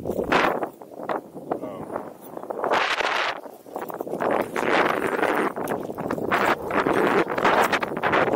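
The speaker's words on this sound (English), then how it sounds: "Kind of windy today." Strong gusty wind buffeting the microphone with loud roaring rumbles that rise and fall throughout.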